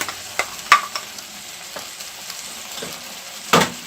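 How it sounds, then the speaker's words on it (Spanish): Carrots tipped into a pot of pork goulash cooking on the stove, giving a few brief sharp clatters and a louder rattle near the end over a low steady frying hiss. "Vamos a vertir la zanahoria."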